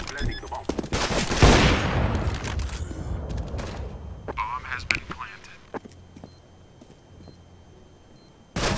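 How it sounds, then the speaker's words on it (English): A bomb is planted in a CS:GO competitive match amid a burst of gunfire, followed by a string of regular short electronic beeps repeating at an even pace over a quieter background. "I am planting the bomb"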